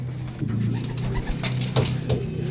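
Racing pigeons arriving at a loft during a training flight in Tiaong, Quezon, cooing steadily and close by, with low throaty coos repeating over a faint outdoor background.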